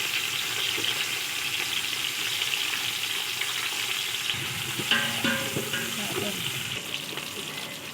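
Onions and green chillies frying in a pan for prawn biryani give a steady close sizzle, with a few louder stirring scrapes and clinks near the middle.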